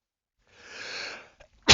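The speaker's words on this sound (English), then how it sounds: "do the body function of sneezing" A single close sneeze builds and bursts for just under a second, followed by a short pause before a voice cuts in loudly at the end.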